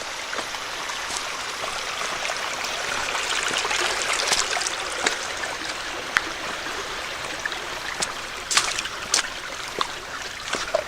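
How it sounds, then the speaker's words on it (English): A shallow stream crossing a hiking trail on the Golden Eagle Trail in Pennsylvania flows and trickles steadily close by, with occasional small splashes and clicks over the constant rushing. "you do end up crossing this stream several times too"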